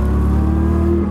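A 99-year-old Bentley 3 Litre engine blips loudly and close up during a downshift, a brief, steady mechanical roar with a rising pitch.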